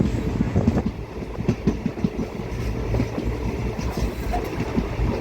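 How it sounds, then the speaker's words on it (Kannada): The Mangalore Junction Express rolls into a railway station on its run from Vijayapura, a loud, continuous rumble carrying the rhythmic clickety-clack of wheels over the rail joints. "Mangalore Junction Express from Vijayapura to Mangalore Junction is coming on"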